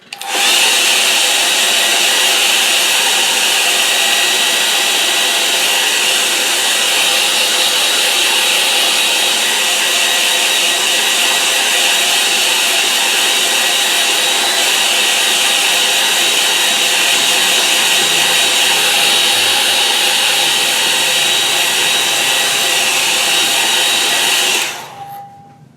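A hair dryer blows a steady, loud, continuous roar for about 25 seconds to dry a watercolour painting, then cuts off abruptly near the end.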